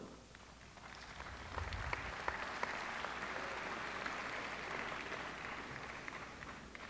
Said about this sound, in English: at a business school graduation we get applause for capitalism